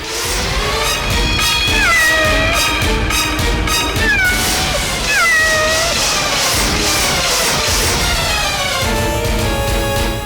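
Several drawn-out cat meows, some rising and falling in a wailing pitch, over a busy, loud background noise throughout.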